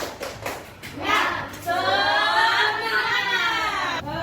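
Children clap together in a quick rhythmic cheer clap during a classroom activity, a dense burst of hand claps joined by excited young voices calling out, fairly close and lively.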